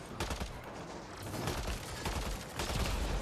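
A turret in the Mass Effect Andromeda video game fires dense, rapid bursts amid battle noise, loud and continuous with a few heavier impacts.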